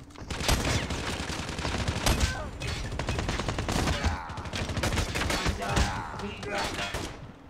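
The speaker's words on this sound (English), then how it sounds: "I was kind of testing out the hipfire, man." Outlaw sniper rifle fired from the hip in Call of Duty Mobile, a dense run of loud, rapid gunfire cracks and in-game explosions packed together across the whole stretch, with no pauses.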